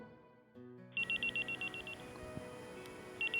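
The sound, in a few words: telephone ringing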